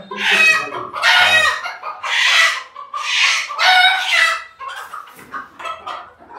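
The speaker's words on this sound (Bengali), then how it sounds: "একে একে সব মোরগ ধরা পড়তেছে।" Several roosters cluck and squawk loudly and continuously while being caught on a rooftop farm, agitated bursts overlapping one another close by.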